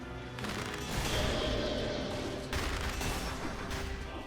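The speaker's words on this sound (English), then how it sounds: "One more cannon shot coming." A cannon shot in the video game Dead Cells booms amid a loud barrage of rapid gunfire-like bursts and game effects, with a fresh blast striking partway through.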